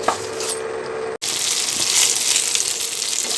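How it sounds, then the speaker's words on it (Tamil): Tamarind, shallots and garlic frying in hot oil in a pan, giving a steady, loud, close sizzle that cuts out for an instant and then resumes, with no voices. "அதனால் இதுவும் எண்ணெயிலே சேர்ந்து நல்லா ஃப்ரை ஆகும்."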